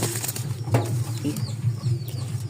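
Two pigeons inside their house coo steadily, a close, continuous low cooing and rustling that fills the whole moment.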